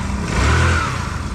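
A motorcycle up for sale revs its engine in one short, strong surge that rises and falls, close by, with steady engine noise throughout.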